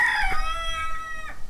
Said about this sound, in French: après cette petite interlude de coq là